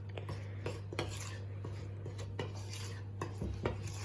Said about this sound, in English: just use a metal spoon just to fold the flour in so that you keep the air in there